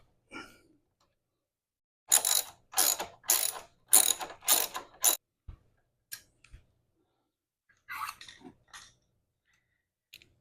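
A ratchet with a 12mm socket works on a seat bolt on a Honda Ruckus scooter. A run of about six quick, loud clicking bursts comes close up, followed by a few isolated ticks and a later short burst, with quiet gaps in between.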